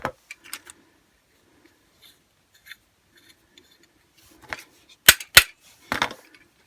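Light metal taps knock a bearing part out of a Stihl KM94rc engine being stripped down, a few sparse clicks early then several sharp, close strikes in quick succession near the end.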